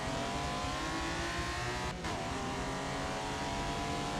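A race car in the Forza Motorsport driving game pulls hard under acceleration, its engine a loud, constant buzzing drone with a brief dip during a quick gear change before the roar resumes.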